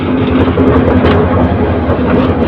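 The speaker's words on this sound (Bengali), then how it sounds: "দেখতে পাচ্ছেন ডাকা অভিমুখী সাতশো বিরাশি নং কিশোরগঞ্জ এক্সপ্রেস ট্রেনের লোকোমেটিভ" The locomotive of the Dhaka-bound 782 Kishorganj Express moving in to couple, giving a loud, steady low engine rumble with a constant hum and no voices over it.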